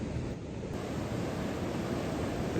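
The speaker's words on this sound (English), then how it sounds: "as hopefully you can get the sound of the waves down here" Ocean waves washing onto a beach at Kingsand in Cornwall, a continuous close, broadband surf roar with some wind noise on the microphone, steady and fairly loud with no voices.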